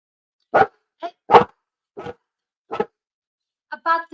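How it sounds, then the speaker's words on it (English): A dog barks sharply several times at irregular intervals, loud and close against otherwise quiet surroundings. "A bad thing about dogs is they bark."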